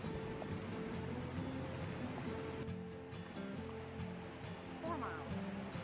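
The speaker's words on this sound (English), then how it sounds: "Here it is. You can hear the water," A creek rushes steadily beside a bridge on a Grand Canyon hiking trail, a soft continuous wash of water heard from a short distance, with some talking over it.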